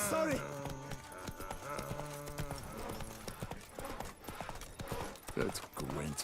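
Roach, a horse in The Witcher 3 video game, gallops at close range with quick, rhythmic hoof clip-clops and a brief whinny, while someone talks over the hoofbeats.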